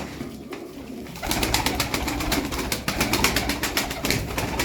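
A sinekli sabun pigeon, a Turkish show breed, coos up close with rapid repeated pulses that start after a quieter opening second and run steadily to the end.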